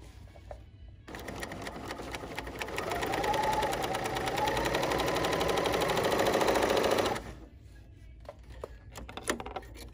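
A Bernina L 890 sewing machine stitches plaid fabric in one continuous run of about six seconds, a close, rapid mechanical whir and patter that rises slightly in pitch and then stops, with faint handling clicks before and after.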